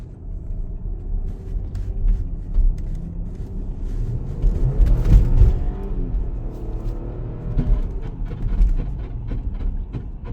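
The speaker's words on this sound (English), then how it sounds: "The sound you hear is the under pan, it's kind of loose" A loose under pan rattles on a 2013 Audi Q7 3.0T with a supercharged engine that is misfiring, heard while driving. A steady road and engine rumble fills the clip, with irregular knocks and rattles scattered throughout.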